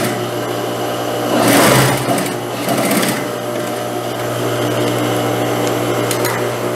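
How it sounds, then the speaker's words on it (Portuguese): A sewing machine stitches the neckline facing of a blouse with a short burst of fast, close mechanical whirring, then a second burst, before settling into a quieter hum. "e passo a costura prendendo o revel"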